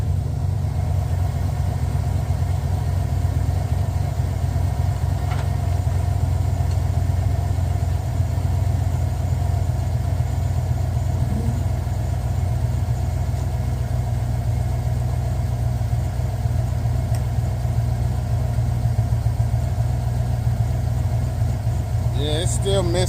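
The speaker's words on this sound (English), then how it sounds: "Stock exhaust." A Chevrolet Vortex Max truck with stock exhaust and a misfire on cylinder 8 idles with a steady, loud low rumble throughout, unchanging and close.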